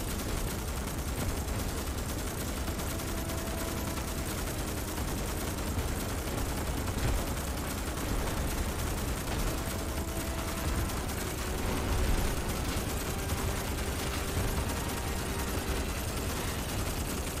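Sustained gunfire at swarms of bugs in the Starship Troopers Extermination video game, a dense continuous rattle of automatic weapons with scattered bursts and faint tonal game effects, steady and loud throughout with no talking.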